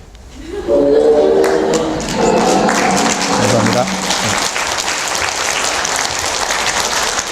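An audience at a lecture on the tiger as Korea's national symbol animal bursts into applause for the lecturer, a voice speaking briefly at the start before dense, even clapping carries on to the end.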